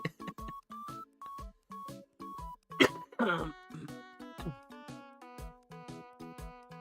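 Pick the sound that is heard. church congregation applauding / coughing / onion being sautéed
coughing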